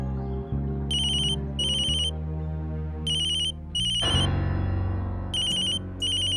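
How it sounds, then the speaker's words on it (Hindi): A loud electronic ringtone plays a repeating melody, with bright chiming beeps recurring in short bursts over a synthesized backing. "अब क्यों फोन कर रहा है?"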